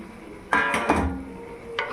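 Peas tipped into a pan of spiced oil while making niramis ghugni: a sudden clatter and scrape against the pan, a second knock, then a soft sizzle with one more brief scrape near the end.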